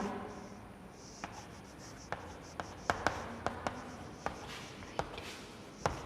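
Pen on paper as a paragraph is written by hand, with faint, steady scratching and irregular sharp taps from strokes and dots, close and quiet.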